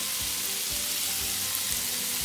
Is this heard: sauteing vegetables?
yes